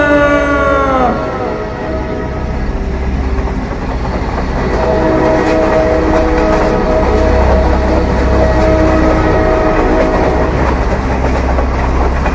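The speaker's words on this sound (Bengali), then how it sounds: "ভয়ঙ্কর গতিতে ছুটে আসছিল একটি দূরপাল্লার ট্রেন" A long-distance express train rushes past a station at terrifying speed, its loud roar and rhythmic wheel clatter filling the scene after a brief rising horn-like tone at the start.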